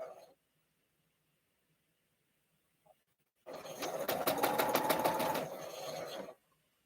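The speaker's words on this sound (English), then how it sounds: "now they want to know what kind of sewing machine did you get, Jennifer?" A sewing machine stitches a quilt block in a quiet room, running in one continuous loud burst of rapid mechanical needle clatter for about three seconds after a short silence.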